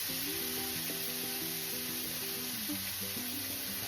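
Eggs frying in a hot pan give a steady, close sizzle throughout, with a layer of tonal background music running underneath and no talking.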